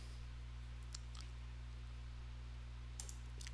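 Faint computer mouse clicks, a couple of small sharp taps against a steady low electrical hum, with no voices.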